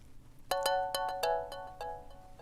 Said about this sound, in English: The main synth sound on this is just a Prophet.